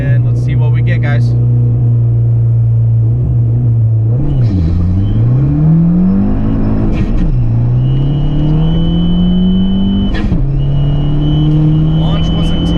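An Abarth car with traction control off launches at 3,500 RPM, its engine droning loud and close and climbing in pitch through each gear, with brief dips at the shifts and a second gear that bogs.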